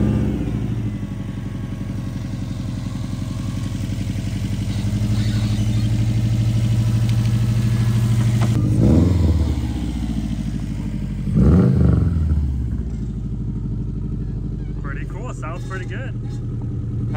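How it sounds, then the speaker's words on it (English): A car engine runs steadily with a low idling rumble, briefly swelling twice as if revved, while people talk over it. "But the engine sounds healthy"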